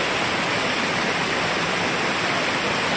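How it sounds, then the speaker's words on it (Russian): Makhuntseti waterfall, the tallest in Adjara, in mountain country: a loud, continuous roar of falling water, steady and unbroken, heard from close by with no other sounds. "Самый высокий водопад Аджарии."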